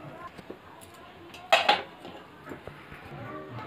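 Jackfruit curry scooped out of a kadhai: soft metal scrapes and light taps, with one sharp clink of spoon against pan midway, in a quiet kitchen.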